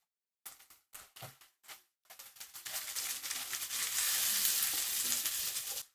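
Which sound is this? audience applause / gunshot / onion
onion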